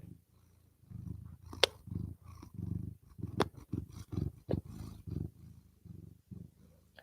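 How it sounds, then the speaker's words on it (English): Cat purring close up, a steady rhythmic low rumble pulsing with each breath, soft and alone. "Are you purring?"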